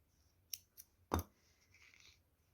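Scissors snipping crochet yarn on an amigurumi project, two light clicks followed by one crisp louder snip, close and quiet with no talk.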